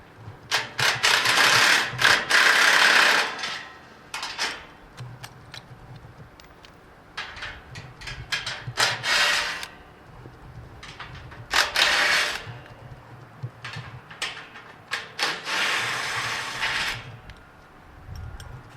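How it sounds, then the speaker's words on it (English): A 14mm wrench and socket loosening bolts on a go-kart shipping crate, with bursts of rapid ratcheting clicks and metallic creaks separated by quieter pauses, close and clear. "You'll need a 14mm wrench and socket to take the bolts off."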